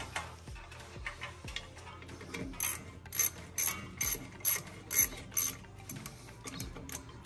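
Ratchet tightening bolts on a 1981 GMC Sierra parts truck that sat for years: steady rapid clicking strokes in repeated bursts, close and moderately loud, with no talking.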